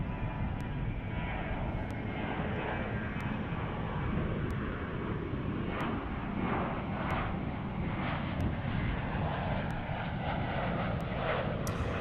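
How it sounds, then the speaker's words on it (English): An Airbus A321 airliner in PSA livery takes off at DFW International Airport, its jet engines producing a continuous, loud, broad roar with low rumble that holds steady across the whole stretch, with no talking. "We got the A321 PSA livery taking off right now"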